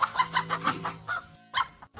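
A cartoon chicken clucks in a quick run of sharp, rhythmic clucks, five or six in a row, then a short pause and one more cluck, close and clear with no talking.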